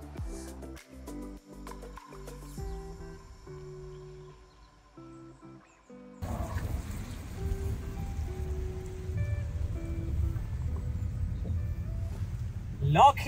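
Rain drums steadily on a moving car on a Loch Lomond drive, starting up partway through and carrying on as a constant patter, with voices talking inside the car.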